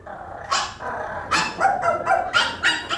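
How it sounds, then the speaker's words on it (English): A dog barks repeatedly and growls in short, sharp bursts close by, during a live stage performance on an Oz theme. "Ooh, you nasty dog."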